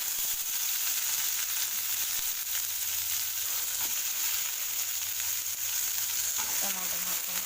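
Tomatoes frying in a pan, a continuous bright hiss and sizzle throughout with faint stirring scrapes near the end.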